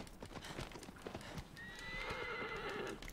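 A horse galloping and neighing in the video game Shadow of the Colossus, with rapid rhythmic hoofbeats throughout and a long whinny rising over them in the second half.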